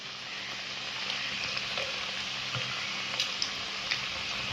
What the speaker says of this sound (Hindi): तो अब हम इनको 8 से 10 मिनट के लिए हल्की आंच पर फ्राई करेंगे।